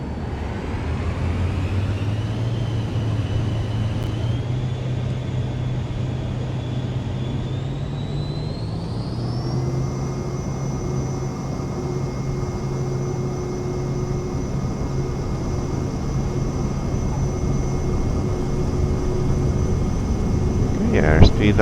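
Cirrus Vision Jet engines in Microsoft Flight Simulator spool up on the takeoff roll at Split Kastela, a loud continuous turbine whine and rumble that rises steadily in pitch with a tonal drone underneath.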